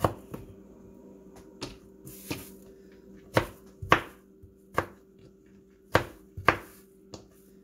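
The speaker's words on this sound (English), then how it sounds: "you just try to cut the tomatoes up as small as possible" A knife chops tomatoes on a board for pico de gallo, giving sharp, close, irregular thuds and taps spaced around a second apart over a low steady hum, with no talking.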